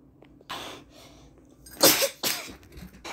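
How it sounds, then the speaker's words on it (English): A single sharp sneeze from a person, close and loud, preceded by a soft breath and followed by a second explosive burst, with quiet pauses between. "I just sneezed."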